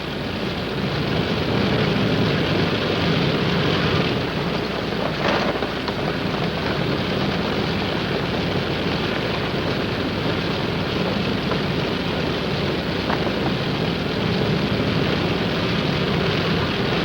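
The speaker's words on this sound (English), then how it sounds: "And the casualties go out by plane." A propeller airplane carrying casualties out from a frozen reservoir drones steadily and continuously, a broad rumbling roar with wind-like hiss, no voices.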